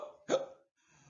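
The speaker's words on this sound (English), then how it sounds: "Now I have the hiccups." A single sharp hiccup, one short abrupt vocal gulp, close and clear, followed by near silence.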